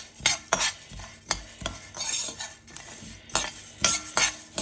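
Spices for vathakuzhambu powder are stirred while dry-roasting in a pan, a utensil scraping and clinking against the metal in irregular strokes, close and fairly quiet, with a faint sizzle between them.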